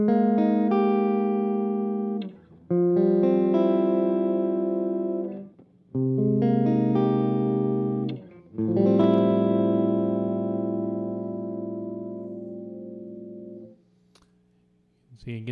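Overdriven electric guitar with boost engaged plays through a VVT X-40 amp, ringing out several sustained chords in bursts separated by short pauses, with full harmonics and a slightly gritty growl.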